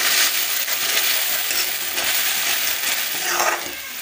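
Tomato paste and green chillies hit golden-brown fried onions in a pan for dhaba-style palak paneer, producing a loud, close, continuous sizzle with a brief stirring scrape near the end and no talking.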